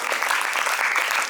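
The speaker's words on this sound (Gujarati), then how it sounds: "બધા તાળીઓના ગડગડાટ" Applause at a children's school event for Gandhi's death anniversary: a dense, continuous burst of many hands clapping, fairly loud and close, with faint voices underneath.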